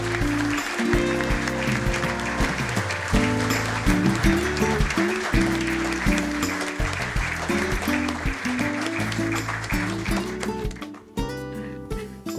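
Applause from the audience at a court administration inauguration ceremony, with clapping running under loud low-pitched music or organ-like tones that dominate and fade out toward the end.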